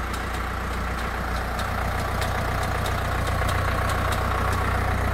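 A Dacia Duster engine idles steadily with a low, constant rumble and a faint regular ticking, close by and uninterrupted.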